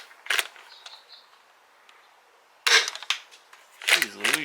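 A Dart Zone Pro MK 2.1 foam dart blaster fires with a sharp single crack early on, then gives a couple more sharp snaps after a quiet pause, with a short voice at the end.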